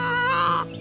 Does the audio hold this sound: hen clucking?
yes